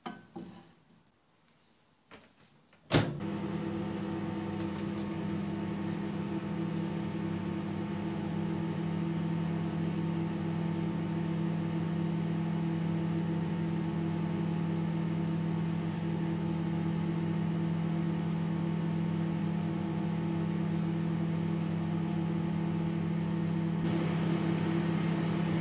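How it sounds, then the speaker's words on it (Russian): A microwave oven heating water and oil gives a steady electrical hum with a low drone, starting abruptly after a few seconds of near silence, then running evenly and continuously. "мы просто-напросто воду вынимем из микроволновки и продолжим нагревать масло"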